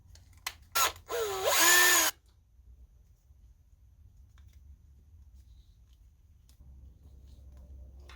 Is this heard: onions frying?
no